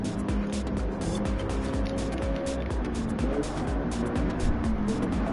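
Mercedes racing cars in the Dragon Trail racing video game, engines droning steadily and loudly throughout with tire noise and passing roars layered over the continuous motor sound.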